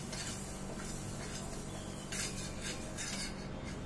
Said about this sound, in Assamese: মুগ দালিখিনি যেতিয়ালৈ ব্ৰাউন নহয় তেতিয়ালৈ গোটেইখিনি ভালৰে ভাজি লম